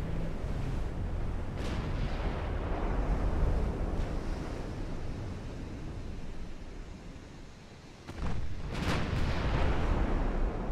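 Naval cruisers and battleships fire in a video game sea battle, a constant roar like surf and wind broken by heavy booming shots, with a lull and then a renewed burst near the end.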